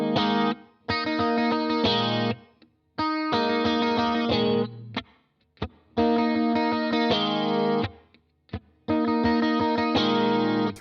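Electric guitar chords from a song, struck in loud, sustained bursts through chorus and distortion effects, each chord ringing about a second or two before clean breaks, repeating across the loop with no talking.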